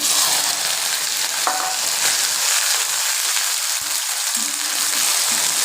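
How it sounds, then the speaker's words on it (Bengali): Cut taro pieces fry in a pan just after a small tempering of spices, a close, loud crackling sizzle with brief scrapes and knocks of stirring, no voices. "কচুগুলোকে জাস্ট একটু ভেজে নেব"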